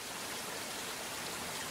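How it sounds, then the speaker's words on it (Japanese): Light drizzle falls at Kiri-ga-taki, a waterfall nearly 30 metres high with low flow, in Shirotori, Gujo, Gifu. A steady, even hiss of water fills the whole stretch without any voices. "なんなら今日でも小雨ぐらいはね、パラついていたりはする"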